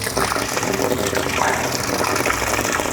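A water pump feeding a line through a flow meter, giving a steady, continuous rush and gush of flowing water that stays loud and close throughout with no pauses.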